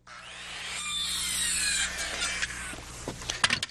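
A saw cuts through a wooden timber for the roof framing of a timber-frame house. A sustained rasping cut rises and then breaks into a few sharp knocks and scrapes at close range, with no talk.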